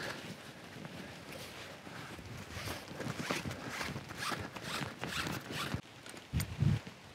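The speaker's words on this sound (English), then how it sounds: "I can open the zipper, so the opening is really big." A zipper on a homemade rope bag is pulled open in several quick rasping strokes, close and fairly quiet, with faint handling noise.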